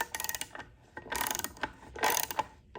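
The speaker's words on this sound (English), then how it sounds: "we're going to grab a socket, and we're going to tighten these just a little bit at a time evenly" A socket ratchet tightening power steering pump bolts, rapid clicking bursts in short, repeated runs with brief pauses between, close and fairly quiet, no talking.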